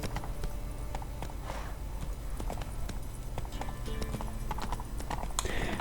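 Geralt's horse Roach trots in The Witcher 3, hooves clip-clopping in a quick, steady rhythm close by, with a brief whinny and faint background ambience.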